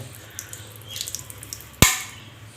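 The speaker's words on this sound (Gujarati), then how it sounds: "પાણીના શીશા ભરી લઈએ" Water bottles fill from a tap at home, with faint scattered drips and trickles followed by one sharp, loud clunk and a short splash.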